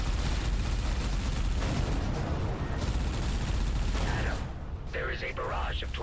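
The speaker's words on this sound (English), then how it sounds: "Fire all reserve torpedoes at once." A torpedo barrage fired during a space combat boss fight in the game Everspace 2, a dense, continuous roar of rapid launches and blasts with no gaps, loud and close, ending in a bright crackling tail.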